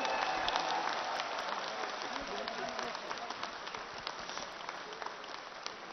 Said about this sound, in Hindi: 10 सेकंड तक ताली बजाओ।